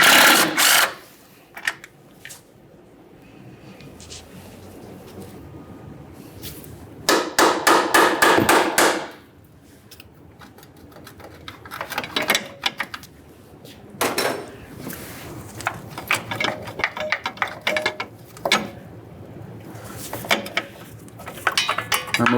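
Metallic ratcheting and clinking from tools removing the 10mm bolt that holds the front brake flex hose on a 2006-2012 Ford Fusion come as bursts of clicks and taps, with quieter pauses in between.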